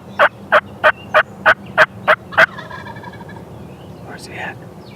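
A wild turkey gobbles eight times in a quick, evenly spaced series, loud and close at a roost on a farm during an opening-day hunt, then fades into quiet outdoor background with a faint distant call.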